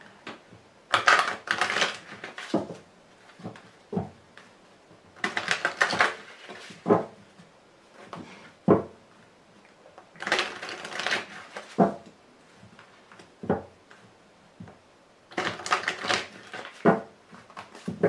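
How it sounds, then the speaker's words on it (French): Tarot cards are gathered and shuffled in repeated bursts of riffling and sliding, close and crisp, with short pauses between passes and no talking. "Allez, on va recouvrir le jeu."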